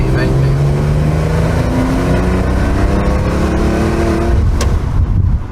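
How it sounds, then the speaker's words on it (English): Citroen fitted with a Maserati V6 and stainless steel Euro headers, a 1973 model, revving loudly and steadily with rising engine tones under talk at an outdoor car event. "It's a Maserati V6. It's got some nice Euro stainless steel headers."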